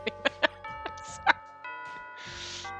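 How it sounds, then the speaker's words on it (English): A school bell in the visual novel Bad Apple Wars chimes a short tonal melody with ringing sustained notes, followed by a burst of noisy hiss near the end. "Oh, the last bell."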